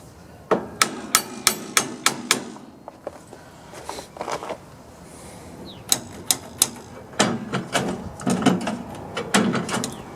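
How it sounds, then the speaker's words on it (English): Sharp hammer taps knock a part back into place on a John Deere 170 lawn tractor, coming in quick bursts of several close, loud metallic strikes separated by short pauses and light handling noises. "Tap this back into place."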